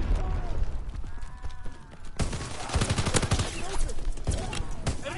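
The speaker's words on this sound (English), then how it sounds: "Sending mortar rounds." Bursts of automatic gunfire and heavy impacts rattle through a Call of Duty match, with a quieter stretch before a dense, loud barrage of shots and explosions takes over midway.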